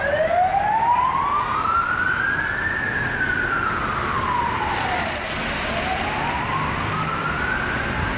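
Police siren wailing on Nathan Road at night, rising and falling in long sweeps over steady traffic rumble, moderately distant and unaccompanied by speech.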